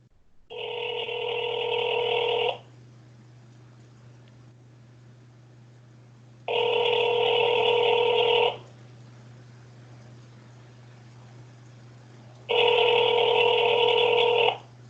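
Telephone ringback heard on an outgoing call: three evenly spaced two-second rings separated by pauses, over a faint constant low hum on the line.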